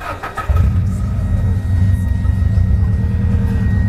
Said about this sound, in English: So let's turn on the engine